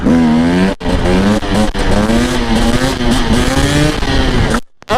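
A two-stroke motorcycle accelerates hard in a wheelie, heard loud and close as a raspy engine note that climbs through the gear, briefly cut off by short gaps, then drops away at the end.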